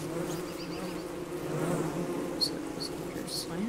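Killer bees around a nest in Don't Starve Together give off a continuous close buzzing drone, with a few brief higher chirps toward the end.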